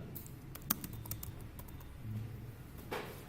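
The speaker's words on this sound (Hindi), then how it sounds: "अब मैं यहाँ पे टैब प्रेस कर रहा हूँ" Soft, quiet clicks of keys being pressed on a computer keyboard, including the Tab key, with a few scattered taps against a faint room hum.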